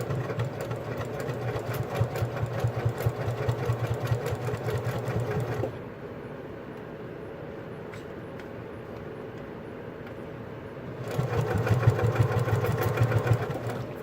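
Sewing machine stitching an accent flap onto fabric, a steady rapid mechanical whirr running for several seconds, pausing briefly, then resuming loudly up close.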